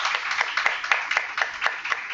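Clapping from an audience after a presentation in an online volunteering session, a steady patter of many hands, moderately loud and continuous, with no talk over it.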